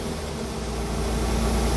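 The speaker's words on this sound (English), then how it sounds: "You can hear the revs change." Engine of an abandoned Smart car with a seized alternator idling steadily, a low droning hum whose pitch shifts slightly as the revs change, close and continuous with no talk.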